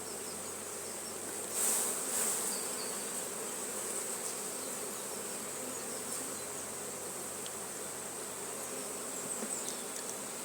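Honey bees buzz around an open beehive during a frame inspection, a dense continuous hum close by with individual bees droning past, steady and fairly quiet throughout with no talk.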